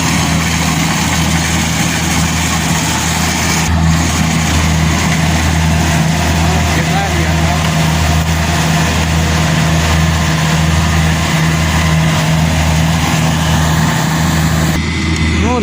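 A new Kubota combine harvester, four months out of the box, idles with a steady low diesel rumble and drone that holds loud and unbroken throughout.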